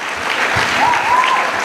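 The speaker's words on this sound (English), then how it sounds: "Can we give Mr. Anderson Blood Armstrong another round of applause, please?" Audience applause fills a school graduation ceremony at a primary school, a steady, dense clatter of many hands clapping at even loudness throughout, with no voices over it.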